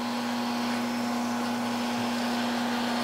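A Karl Engelhart TWF 1000 stair trench and multi borer runs at its low first-gear speed, giving a steady, loud motor whine with a constant tonal hum and no pauses.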